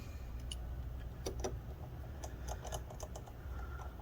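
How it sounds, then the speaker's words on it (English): Four small screws are driven back into the plastic case of a second-generation Toyota Prius key fob, making faint, scattered ticks and clicks close up over a quiet background hiss. "we're just going to get these 4 screws back in"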